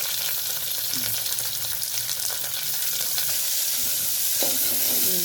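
Tempering seeds, dried red chillies and curry leaves fry in hot oil with a loud, steady sizzle and hiss that runs the whole time without a break. A few faint stirring scrapes come through, and no one speaks.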